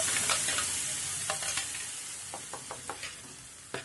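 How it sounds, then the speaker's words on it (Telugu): Curry leaves with a green chili and tomato paste fry in a pan, a steady sizzle broken by intermittent stirring scrapes and light knocks, close and moderately loud with no talking. "ఇప్పుడు ఈ కరివేపాకును కూడా బాగా ఫ్రై చేసుకొని ముందుగా మిక్సీ పట్టించుకున్న పచ్చిమిర్చి టమాటో పేస్ట్ని కూడా యాడ్ చేసుకుందాము"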